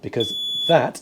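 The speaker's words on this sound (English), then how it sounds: "oh, sorry about the beeping, I'm not quite sure what that is." A steady high-pitched electronic beep tone sounds continuously at the helm station of an Arksen 85 Explorer motor yacht while a person talks over it nearby.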